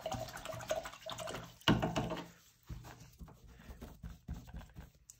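Water splashing and dripping as an acrylic paint brush is rinsed clean of Murphy's oil soap, with short patters and one louder splash, fairly close and quiet.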